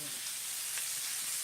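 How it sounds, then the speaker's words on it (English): Mushrooms sautéing in a cast iron pan give off a soft, steady sizzle, a continuous hiss that stays fairly quiet throughout without a break. "Just saute my mushrooms."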